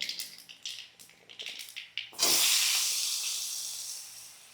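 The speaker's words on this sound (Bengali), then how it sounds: "আলুটা দিয়ে এটাকে একটু ভাজবো, খুব ভালো করে ভাজবো না, অল্প একটু ভাজবো।" Potato pieces dropped into hot oil tempered with nigella seeds and dried chili. A few soft clinks and taps come first, then a sudden loud burst of hissing sizzle that slowly settles into a steady, fading fry.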